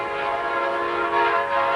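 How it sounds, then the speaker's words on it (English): A train near the Mississippi River at Pool 5a sounds a sustained, steady horn tone over a bass fishing outing. The horn is loud and continuous, with no speech. "and there's a train coming."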